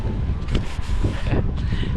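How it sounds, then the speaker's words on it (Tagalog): Gusty wind outdoors on a street walk, buffeting the microphone in uneven bursts of low rumbling noise, close and fairly loud, with no talk. "Mahangin ngayon."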